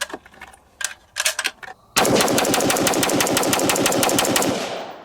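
A Springfield Armory Saint Edge pistol firing Fiocchi ammunition at an outdoor range: a few scattered shots, then a fast, loud, continuous string of rapid shots that fades at the end.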